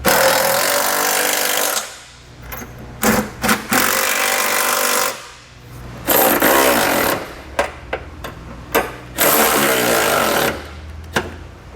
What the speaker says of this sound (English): I'm going to use an 11/16 size socket to run them down.